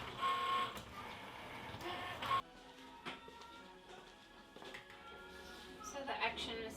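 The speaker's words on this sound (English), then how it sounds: "your cut has completed" A Cricut Maker cutting machine finishes cutting heat transfer vinyl, its motor whirring and its carriage moving with soft mechanical clicks and shuffles, fairly quiet and close.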